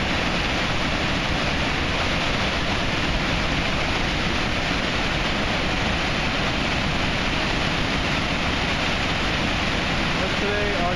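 The flooded Esopus Creek at the Route 32 bridge in Saugerties, New York, during Hurricane Irene, roars as a steady, dense rush of water. It is loud and continuous throughout, with no voices.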